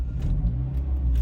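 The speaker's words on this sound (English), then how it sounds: "So now we're gonna start the vehicle and we'll see." Car with a 4-speed automatic transmission starting up, a steady low engine rumble running throughout, close and fairly loud, with a faint jingle of keys.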